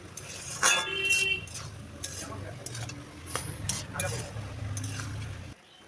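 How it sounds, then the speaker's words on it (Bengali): Ash gourd cooked with fish oil, salt and turmeric is stirred in a pan, with repeated scraping spoon strokes, clinks against the metal and a steady sizzle up close. "এবার নাড়াচাড়া করে 5 মিনিটের জন্য ঢেকে দেব।"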